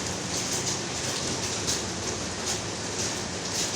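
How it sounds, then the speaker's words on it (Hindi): Heavy rain pours down steadily outside a home, a dense, continuous hiss of drops striking surfaces, loud and unbroken with no voices. "ये देखिए बारिश कितनी तेज़ हो रही है।"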